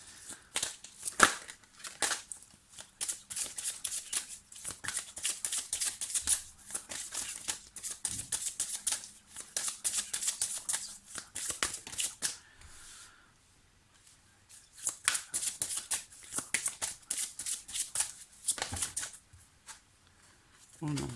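Tarot cards being shuffled for a reading, papery riffling and crisp flicks coming in close bursts with short pauses between them, while someone speaks over much of it.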